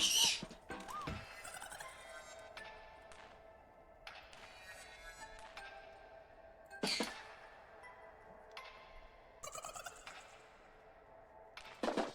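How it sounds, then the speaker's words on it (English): A pet bird chatters in a run of rapid gobbling, trilling calls, coming in repeated bursts with short pauses between them, close by over a low steady background hum. "Is my bird chattering?"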